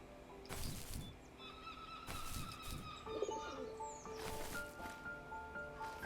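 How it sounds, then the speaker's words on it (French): A pigeon in the video game The First Tree coos and flies off, giving a soft low coo and rustling bursts. Other bird chirps sound faintly in a quiet outdoor ambience. "C'est quoi le pigeon là qui s'envole?"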